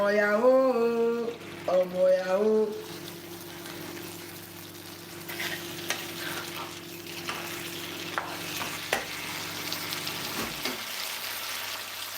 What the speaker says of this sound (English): Now stir that round.